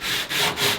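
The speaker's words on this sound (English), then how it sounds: "I'm just going to sand this." Body filler on a 1966 Buick Riviera is sanded by hand to knock down high spots, with three close, rhythmic rasping back-and-forth strokes in quick succession.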